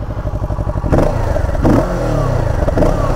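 A 2020 Kawasaki Z650 motorcycle engine idles with a close, throbbing pulse, then is blipped and revved several times, the note rising and falling with some mechanical clatter, loud and alone without talk.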